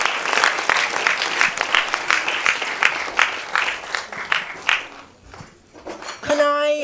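Audience at Bhaktivedanta Manor applauding the Hare Krishna primary school after arti, dense clapping with crowd noise for several seconds, then thinning out before a tonal chime-like sound at the end.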